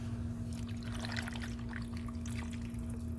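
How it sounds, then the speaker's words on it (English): Water is poured into a rock tumbler barrel already holding grit, a soft, steady trickle and splash over a constant low hum. "Do you want to go ahead and pour the water in?"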